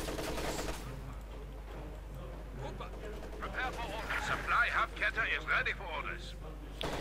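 An MG34 machine gun in Company of Heroes 2 rakes a snowy battlefield with rapid rattling bursts that build in the second half, mixed low under a commentator's steady talk.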